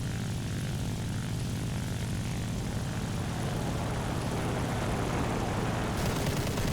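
Propeller fighter engines in War Thunder, including a Japanese fighter and a Bearcat, drone loudly and steadily with a throbbing low roar that holds unbroken throughout.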